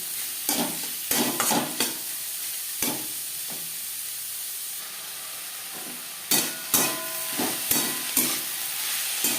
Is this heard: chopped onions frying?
yes